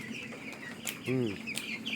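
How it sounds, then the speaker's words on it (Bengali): One broiler chicken gives a single short cluck, faint against steady background noise and hum in a chicken shed where the birds are drinking water. "এই যে মুরগিটা পানি খেতেছে।"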